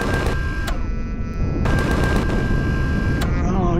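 Mounted guns on a hover vessel in the game Empyrion, rapid automatic fire in loud sustained bursts with short gaps, over a constant engine hum, with a voice speaking briefly.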